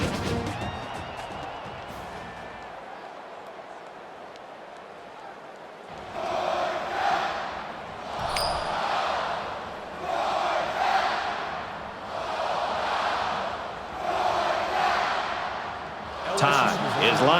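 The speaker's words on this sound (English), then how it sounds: "you can feel the thunder in the crowd as they await the start of this game" Stadium crowd roaring in the college football video game NCAA 14 before kickoff of a simulated Georgia vs LSU playoff quarterfinal, rising in repeated loud swells after a quieter stretch with a commentator talking.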